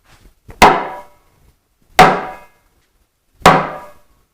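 A sledgehammer drives a large-diameter pipe coupling in three sharp, evenly spaced blows, each a loud close crack that rings briefly before dying away into silence.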